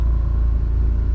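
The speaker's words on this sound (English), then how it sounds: "And y'all excuse my generator noise" A generator running steadily aboard a homemade houseboat, a loud continuous low rumbling drone close by, with no talk.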